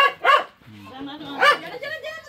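Two sharp dog barks close by, spaced about a second apart, with people talking and background chatter between them.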